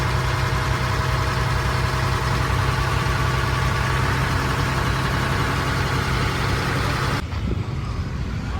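A vehicle that had been parked for four years idles steadily after finally starting, a loud, close, unbroken engine rumble that drops slightly in the last second, with no speech.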